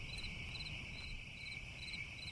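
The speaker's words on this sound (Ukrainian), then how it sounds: "І залишилися ще цвіркуни." Crickets chirp steadily in a quiet outdoor setting, a high, pulsing trill repeating in regular bursts over a low background hum, with no voices.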